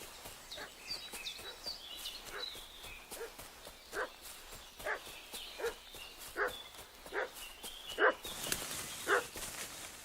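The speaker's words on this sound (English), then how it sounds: "What's that dog making such a fuss about?" A dog barks repeatedly at a moderate distance in the medieval village world of Kingdom Come: Deliverance 2, with sharp, spaced barks over a quiet outdoor ambience and faint footsteps.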